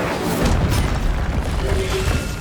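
A fire spell cast in the Hogwarts Legacy video game, a loud sustained roaring whoosh with a low boom, dense and close, lasting a couple of seconds.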